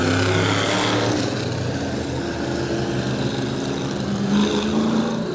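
E-Mod race cars circle the New Smyrna track during the feature race, a steady droning blend of engines at moderate distance with no voices.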